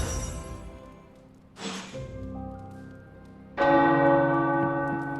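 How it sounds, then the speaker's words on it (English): Deep church tower bells in a video game, Marvel's Midnight Suns, ring out in several resonant strikes, each tone sustaining and slowly fading, with a louder peal arriving near the end. "The tower bells are ringing."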